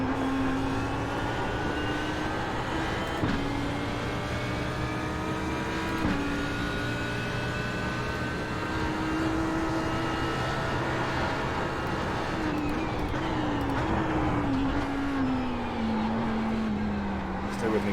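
Ferrari race car in a racing video game, its engine droning steadily at high revs with pitch rising and falling through gear changes and braking, loud and continuous under someone talking.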